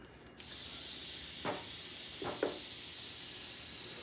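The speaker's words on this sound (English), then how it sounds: "now I can spray some water through it" Water forced through an airbrush gun gives a steady, close, even hiss that starts abruptly and runs without a break, with a few faint clicks partway through.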